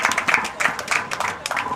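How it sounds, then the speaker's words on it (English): Applause from an audience at a cultural ceremony for Anambra State held in Abuja, a brief burst of dense clapping at steady loudness, with a little crowd murmur mixed in. "Another applause, please."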